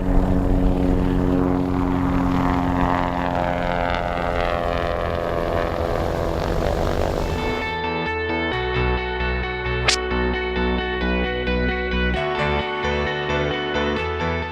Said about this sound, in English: That is a 4-seater single-engine airplane.